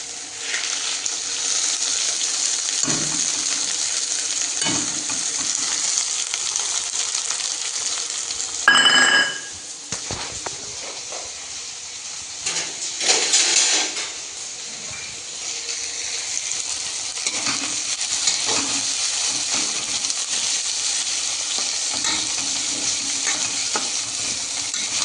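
Onion frying in oil in a home kitchen, a steady broadband sizzle with intermittent scraping stirs and a few louder clatters of the spoon against the pan, no talking.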